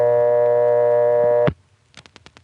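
A tone from a 1976 step-by-step telephone exchange in Rawlinsville, Pennsylvania: a steady buzzing tone cuts off abruptly, followed by faint clicks and a quick series of short ticking pulses.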